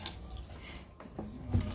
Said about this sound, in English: This hose bib here is just leaking on me.